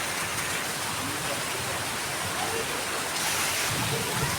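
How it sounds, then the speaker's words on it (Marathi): Heavy May rain in the Konkan pours down in a dense, steady hiss, loud and unbroken throughout with no voices. "पावसाची सुरुवात झालेली आहे जोरदार ओ काय पाणी पडते बघा"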